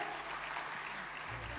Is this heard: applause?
yes